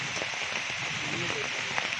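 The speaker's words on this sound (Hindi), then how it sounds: "बारिश तेज़ हो चुकी है" Heavy rain pours steadily over a mango garden, a dense continuous hiss of drops on leaves and surfaces, close and even throughout, with faint scattered patters.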